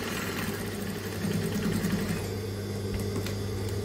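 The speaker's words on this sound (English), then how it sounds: "So I'm hemming the side." A sewing machine hems the side of a peplum skirt, humming in a steady mechanical drone with a faster stitching patter partway through, close and alone.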